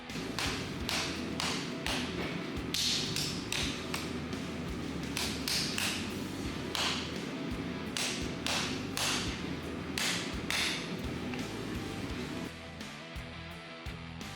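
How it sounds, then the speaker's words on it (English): Steel knife blade being hammered on an anvil while shaping the cutting edge, a steady run of loud, close metallic strikes repeating for the whole stretch over a busy workshop background. "I'll hammer along what will become the cutting edge and try to make the blade height a little more consistent"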